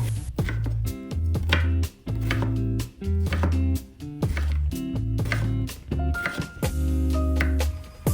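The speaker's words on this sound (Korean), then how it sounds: "비트 반 개는 얇게 채 썰어줄게요" A knife cuts half a beet into thin julienne strips on a board, giving a fast, even run of crisp, loud chopping taps in short bursts with brief pauses.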